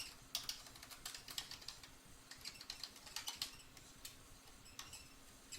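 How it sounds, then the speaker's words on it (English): Typing on a computer keyboard during live math research work, a soft, irregular run of quick key clicks, close but quiet, with no speech. "maybe I'll try typing in some of that first"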